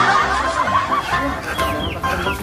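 Chickens cluck and chatter nearby, short bursts of clucking rising over background noise.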